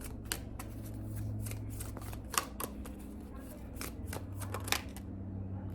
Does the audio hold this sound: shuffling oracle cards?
yes